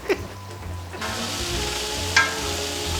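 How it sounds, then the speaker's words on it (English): Sausages frying in a pan beside a roux for gumbo, a steady close sizzle with a brief clatter near the start and a sharper burst partway through, no voices. "my sausage are cooking. They're almost, I want them to burn up a little bit"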